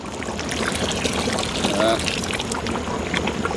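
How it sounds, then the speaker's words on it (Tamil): A pot of water boiling hard for beef biryani gives a continuous, moderately loud bubbling and rushing wash for a few seconds. "தண்ணி நல்லா தலை தலைன்னு கொதிக்கிறாங்க"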